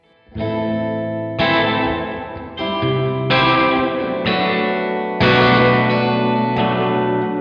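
An electric guitar runs through Arturia's spring reverb plugin on its default setting, strumming a series of loud distorted chords with a splashy, echoing spring-reverb tail ringing between each hit.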